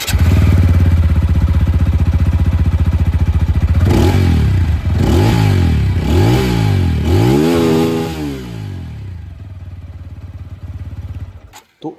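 Close, loud idle of a TVS Apache RTR 200 4V motorcycle engine and exhaust, followed by four or five sharp throttle revs that climb and fall, then a return to a steady idle with no voices.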